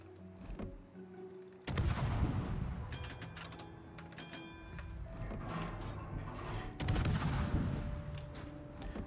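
Rockets striking targets in the naval combat game World of Warships, where a Tier VIII Russian destroyer Kiev fights in ranked play: sudden loud booming bursts with rumbling explosions and crackling impacts, repeated in clusters over steady engine and sea noise.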